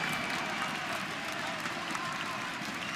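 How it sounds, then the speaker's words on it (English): Large arena crowd roaring, cheering and applauding continuously at a CS:GO esports semi-final on the Cache map at ESL One Cologne 2017, loud and sustained, with a commentator's voice faintly under it. "The crowd's in rapture."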